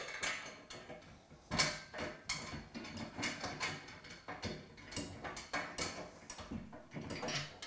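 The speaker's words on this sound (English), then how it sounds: "And we can tighten all these up." Desk assembly bolts being tightened, a quick run of ratcheting, clicking mechanical turns with short metallic taps, fairly faint and close, no talking.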